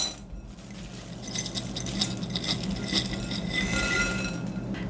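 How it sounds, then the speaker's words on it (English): A dry breakfast casserole mix is poured out of a jar into a Pyrex glass bowl, with a soft continuous rattling patter and scattered light glassy clinks, close but quiet. "I'm going to dump it into this Pyrex bowl"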